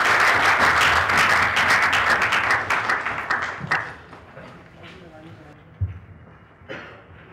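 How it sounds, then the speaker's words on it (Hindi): Classroom applause greeting a teacher at the start of a spoken Sanskrit class, a dense burst of clapping for about four seconds that fades out, followed by quiet room sounds and a few soft knocks. "तालियों से उनका स्वागत करेंगे"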